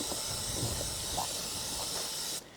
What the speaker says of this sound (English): I'm going to use a muck off chain and gears degreaser and cleaner just to start cleaning off this chain